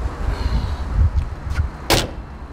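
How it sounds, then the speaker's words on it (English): A heavy, aluminium-bodied V8 car's door swings shut in a garage with one solid, sharp thud near the end, after a couple of softer knocks over low background rumble. "feel how good that door closes"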